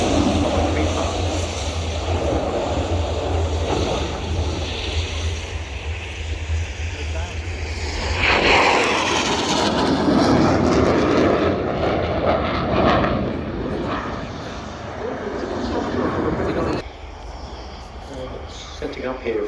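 A delta-wing canard jet makes a high-speed pass at an air show, a loud roar that swells, peaks and trails away over about twenty seconds, with a person talking over it.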